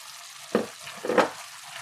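Scallions and tomato hitting a hot frying pan give two short sizzling bursts, close and moderately loud, over a quiet background, while fried squash with shrimp cooks.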